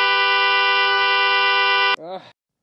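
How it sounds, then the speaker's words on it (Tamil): A loud, sustained vehicle horn blares steadily for about two seconds, then cuts off, followed by a short, falling tonal sound. "ஹார்ன் அடிக்கிற காது கேட்காதா?"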